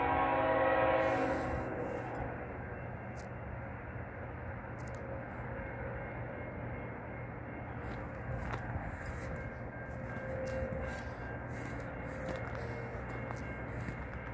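A CN freight train of empty ethanol and crude oil tank cars, led by ET44AC and ES44AC locomotives, rumbles past in a steady low roar. A horn sounds at the start, then the rolling noise continues with occasional clanks.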